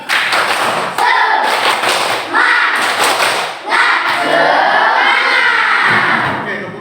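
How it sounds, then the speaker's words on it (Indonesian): Fifth-grade primary school pupils perform the 'tepuk semangat' clapping chant in a classroom, bursts of rhythmic clapping and thumping with children's voices chanting along in short phrases. "Tepuk semangat."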